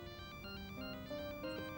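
A mobile phone ringtone plays a repeating electronic melody, steady and moderately quiet, with nobody speaking over it.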